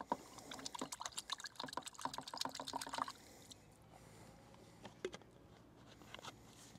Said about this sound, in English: Just wash that cap off.